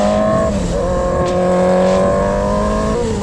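A Yamaha R6 sport motorcycle engine holds a steady high-pitched rev, its tone sitting constant and loud close by, with a brief dip and recovery partway through and no talk over it.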